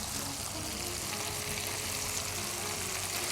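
Minced meat hits masala fried with ginger-garlic paste and salt, giving a loud, even, continuous sizzle up close with no talking.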